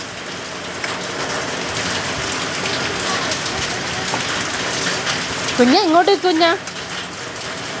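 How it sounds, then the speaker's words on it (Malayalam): Heavy rain pours down in a steady, loud hiss throughout, and a voice briefly calls out over it near the end. "ഇവിടെ നല്ല മഴയാണിപ്പം."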